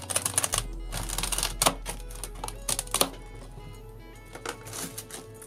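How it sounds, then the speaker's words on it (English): A knife slices through a celery stalk on a cutting board for a craft project, producing a quick series of crisp, close tapping cuts with short pauses between them. "Now I'm going to cut this other stalk and see if I can get a different design."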